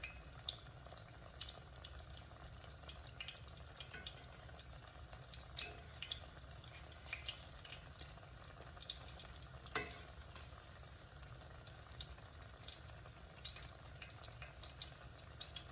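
Plantains fry in oil in a skillet with a faint, even crackling sizzle that holds steady throughout, dotted with tiny pops and an occasional soft clink.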